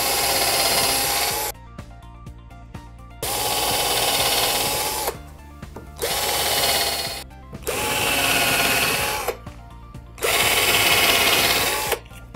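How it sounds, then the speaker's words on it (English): A power drill bores pilot holes into pallet wood for a bookshelf build, five loud whirring bursts of a second or two each, separated by short pauses of near quiet. "I'm just going to drill some pilot holes in here."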